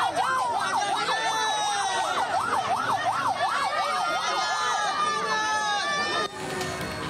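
An ambulance carrying a body, escorted on foot by a crowd of residents toward an army battalion headquarters in Deli Serdang, North Sumatra, sounds a loud, rapidly wailing siren over crowd noise until it cuts off near the end.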